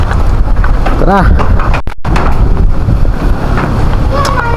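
Heavy rain and strong wind roar close to the microphone in a loud, constant outdoor wash with buffeting gusts, and a voice briefly speaks over it.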